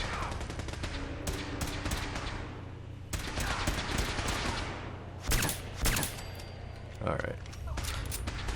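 Gunfire aimed at a synth in Fallout 4 crackles in rapid bursts, with several louder sharp shots standing out near the end over a constant low hum.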